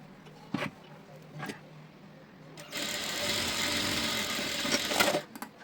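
A sewing machine stitching a lined blouse: a few short mechanical clicks and taps lead into a steady run of rapid stitching for a couple of seconds, then stop, close up and fairly quiet.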